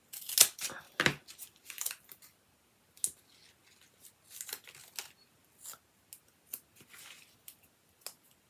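Scissors cut foam pads for a craft card in short snips, a few louder crunchy cuts at the start and then lighter irregular clips, close and quiet, with no talk.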